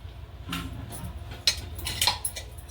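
Upvas dhokla batter is stirred with salt and peanut oil, a spoon scraping and clinking against the bowl in a short, close, moderately loud burst with a few sharper knocks.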